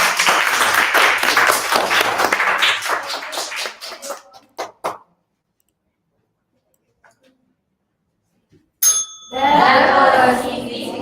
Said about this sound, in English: Let's give a big round of applause to Savannah.